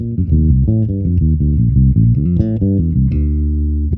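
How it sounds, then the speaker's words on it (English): Bass guitar playing a fast, busy jazz line alone, a quick run of distinct plucked notes in steady rhythm, close and loud, ending on a held note. "So that line on bass sounds like this."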